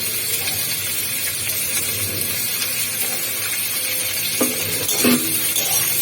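Onions and capsicum sizzle steadily in a hot pan for restaurant-style spicy chili chicken while a utensil stirs them, with a few louder scraping stirs near the end and no talking.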